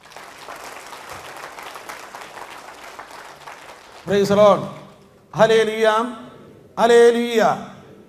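A worship congregation claps hands together in steady applause for about four seconds, a dense, even patter, before voices take over with speech.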